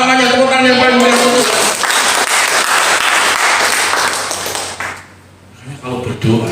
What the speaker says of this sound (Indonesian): Tepuk tangan yang paling baik.